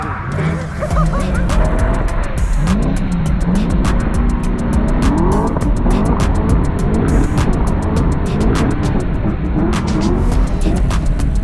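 A budget Ford Falcon drift car revs hard and loud throughout, engine note rising and falling with repeated bouncing limiter bursts as tires squeal and scrub, close and continuous with no talk.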